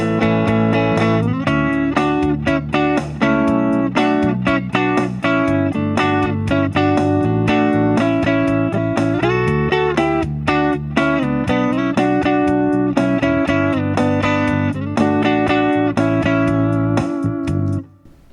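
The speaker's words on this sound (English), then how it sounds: "what you're hearing is the sound of rhythm guitar that's becoming part of the melody" Rhythm guitar plays a melodic part built on triad chords, with a steady stream of close, loud strummed chords changing pitch throughout and stopping abruptly at the end.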